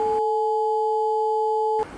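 Two pure sine tones sound together as one steady, clean electronic chord, starting and stopping abruptly and lasting under two seconds, with brief noise before and after.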